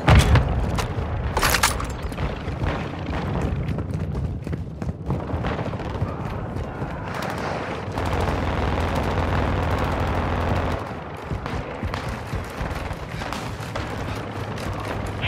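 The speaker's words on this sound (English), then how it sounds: "Tossing grenade!" Heavy booms and sustained rumbling crash through a Call of Duty: Modern Warfare II firefight, with a grenade blast amid gunfire and loud, dense, continuous battle noise.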